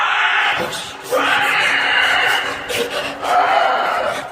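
A creature screeches in a tunnel, shrill rasping cries rising in long loud bursts with brief pauses between, harsh and close with no talk.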